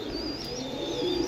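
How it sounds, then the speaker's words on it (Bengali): A pair of Rampuri pigeons with chicks cooing softly and continuously at close range, a low steady burbling over background noise with no talk. "এক জোড়া রামপুরি কবুতর"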